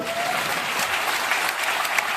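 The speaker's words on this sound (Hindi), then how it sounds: "खुद के लिए जोरदार तालियां बजा दो।" Steady, dense applause from a large event audience, loud and continuous throughout with no speech over it.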